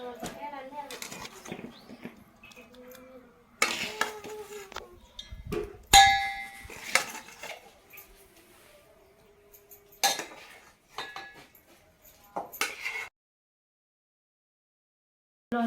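Metal utensils clink and scrape against a metal pot while lemon pickle is transferred in, in scattered bursts with quiet pauses between, ending in silence.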